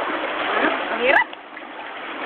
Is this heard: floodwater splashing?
yes